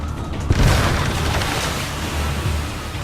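Heavy artillery firing at an enemy fleet of ships in the video game Assassin's Creed Brotherhood, a deep booming blast that rolls into a sustained low rumble, loud and continuous with no speech.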